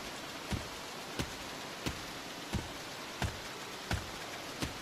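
Synthesized rain effect from the Nameless Game on the Nintendo DS: a steady hiss of falling rain punctuated by sharp, evenly spaced clicks roughly every two-thirds of a second, with no voices.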